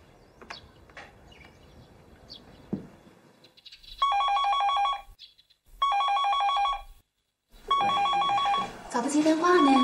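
A telephone rings in a rural village home in a Chinese TV drama, three loud electronic bursts of repeated trilling tones with gaps between them, following quieter rustling and room noise.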